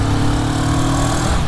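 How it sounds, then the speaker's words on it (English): A Moto Morini Seiemmezzo STR motorcycle engine is revved, giving a loud, steady, buzzing drone that sounds close and runs without any talk. "it is an engine that likes to be revved"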